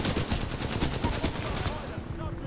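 Dense rapid gunfire in a Titanfall 2 battle, a fast rattling burst that stays loud and continuous across the whole short moment.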